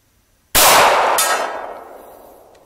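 A single loud gunshot from a firearm at an outdoor shooting range cracks sharply, followed by a long ringing echo that slowly decays.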